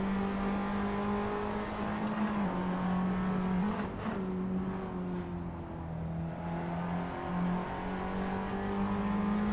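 Race car engine heard onboard during an overtake at Tor Poznań, a steady loud drone holding close to a constant pitch throughout, with a brief dip and surge near the middle.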